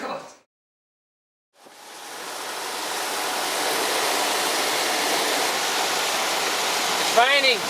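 Rain and wind in Western Australia make a steady, dense hiss that builds up after a brief silence and stays loud and constant, with a faint higher sweep near the end.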